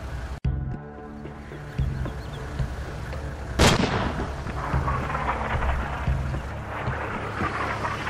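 A sniper rifle fires in the shooter game Sniper Ghost Warrior, with a sharp crack near the start and a loud, echoing shot midway, each trailing off into a low rumbling ambience.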